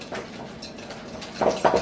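Spoon stirring an egg into cookie batter in a bowl, giving a couple of soft scrapes and clinks against the bowl's side, quiet and close.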